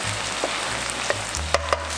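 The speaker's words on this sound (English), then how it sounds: "So stir fry this until the sauce is completely soaked into the noodles" Pad Thai noodles stir-fried with sauce in a pan give a steady close sizzle, with a few sharp clinks of a utensil against the pan near the end.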